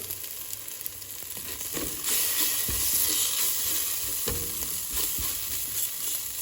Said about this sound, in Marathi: हांव आतां वड्डी पीठ घात तितून आनी बरो मिक्स कर